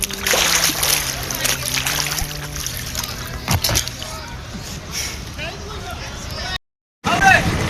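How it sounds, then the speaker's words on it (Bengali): A single brief splash as someone dives into cool water during a boat trip in Sunamganj, set among a background of voices and boat noise. "একটা ডুব দিয়ে দেখি।"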